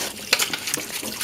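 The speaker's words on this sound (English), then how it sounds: "let's run the tap. Warm water" Warm water runs from a household tap in steady bursts while an old toothbrush scrubs the dispenser drawer of a Samsung washing machine, close and fairly quiet.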